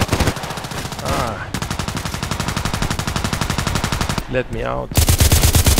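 An H&K 416c rifle fires in the video game Contract Wars, loud rapid automatic bursts hammering almost without pause, with a short spoken phrase slipped in between volleys.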